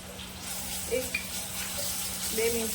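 Ginger garlic paste with a pinch of asafoetida sautés in oil, giving a soft, steady sizzle with a faint background hum and a few light clinks, all fairly quiet.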